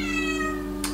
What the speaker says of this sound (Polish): To jest mój kot, Tadzia.